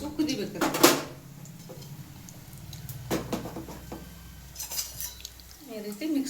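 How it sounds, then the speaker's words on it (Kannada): A spoon scrapes and clinks against a pot on the stove while jaggery and dal are mixed, giving sharp metallic knocks at irregular moments and soft stirring between them, with speech in the background. "ಈ ರೀತಿ ಮಿಕ್ಸ್ ಮಾಡ್ಕೊಳ್ಬೇಕು"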